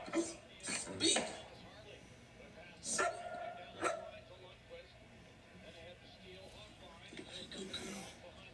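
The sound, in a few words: dog barking on command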